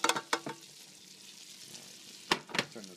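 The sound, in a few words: onion and garlic sizzling in butter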